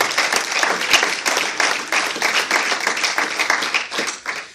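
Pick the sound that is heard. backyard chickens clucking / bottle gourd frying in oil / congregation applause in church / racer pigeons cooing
congregation applause in church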